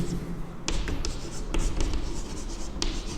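Pen or marker writing by hand on a surface, a steady scratchy scribble broken by a few sharp taps and pauses, close and fairly loud, with no talking.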